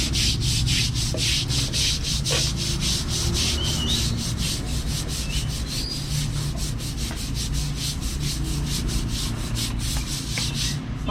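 A tomb surface is scrubbed clean of dirt before painting, making a steady, continuous abrasive rubbing that holds an even level throughout, close and unbroken, with no one speaking.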